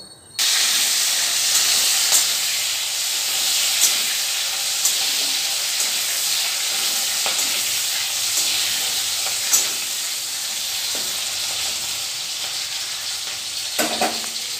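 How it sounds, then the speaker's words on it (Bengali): Large prawns fry in a pan with a loud, steady broadband sizzle and hiss that runs unbroken throughout, with occasional faint clicks of stirring and no voices. "চিংড়ি মাছটা তো ভাজা হয়েছে"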